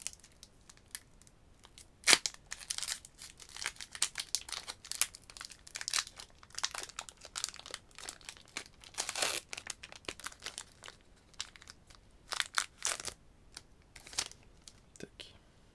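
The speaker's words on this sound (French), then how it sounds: "on va ouvrir le premier booster Lorcana" The foil wrapper of a Lorcana trading card booster pack crinkles and tears in close, sharp bursts, with quiet rustling in between and a soft voice at times.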